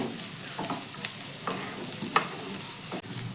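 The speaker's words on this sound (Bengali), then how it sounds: "বাঁধাকপিটাকেও এখানে আমি ছ সাত সেকেন্ড মতো একটু ভেজে নেব প্রথমে" Thinly sliced cabbage frying in a pan: a steady hiss of sizzling oil with a few sharp scrapes and clicks of stirring.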